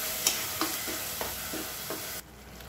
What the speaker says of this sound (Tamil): மசாலாவை எண்ணெயில் 1-2 நிமிஷம் வதக்கிக்கலாம்